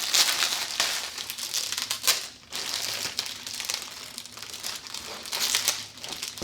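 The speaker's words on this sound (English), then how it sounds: "And let's peel it off and see what it looks like" Protective plastic film being peeled off a new Morimoto LED headlight, a continuous close crinkling and crackling with a brief pause midway, loud and alone.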